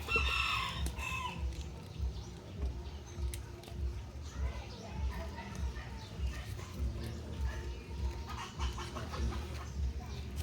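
Chickens cluck and a rooster crows nearby in an outdoor yard, mixed with people talking and scattered background noise.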